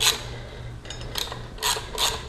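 A ratchet wrench clicks in short bursts while tightening the rear sprocket bolts on a motorcycle. Several brief, close, crisp ratcheting passes are separated by small pauses.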